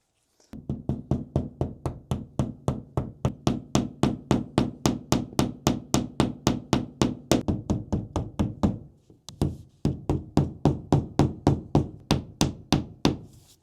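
A drywall anchor is hammered into a wall with a long steady run of sharp, rhythmic knocks, loud and close, broken by a brief pause before the hammering resumes at the same pace.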